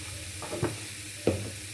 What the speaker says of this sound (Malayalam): ഉപ്പിലിട്ട മാങ്ങ ഇട്ട് കണ്ണാണ് ഇളക്കി കൊടുക്കുക.